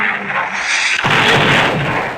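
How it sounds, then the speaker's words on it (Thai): A bazooka explosion in a Roblox game: a loud, booming blast with a second heavy burst about a second later, both leaving a dense, noisy rumble. "ใครมันยิงระเบิดมา"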